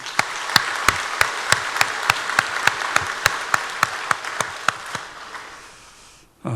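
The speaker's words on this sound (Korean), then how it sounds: "우리 박수하겠습니다" A church congregation applauds in a steady wash of clapping with sharp, regular accents, gradually fading before a closing thump.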